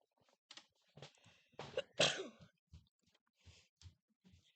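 A single sharp sneeze bursts out near the middle, set among quiet breaths, sighs and small clicks close to the microphone, with no talking.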